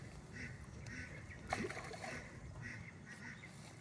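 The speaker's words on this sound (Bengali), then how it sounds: "ডাকতেছে হাঁস।" Ducks quack faintly in repeated soft bursts beside a village canal, with a brief splash in the middle and quiet outdoor ambience throughout.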